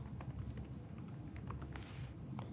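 Quiet, steady typing on a computer keyboard as a single word is entered into a search field, a rapid stream of soft key clicks with no talking.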